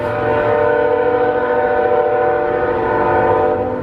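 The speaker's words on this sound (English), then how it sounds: "I'm sorry for the sound, but we're not too far from the railroad." Loud, steady train horn or whistle blast from a nearby Norfolk Southern railroad line in Princeton, Indiana, with a sustained tonal chord over the rumble of rail cars.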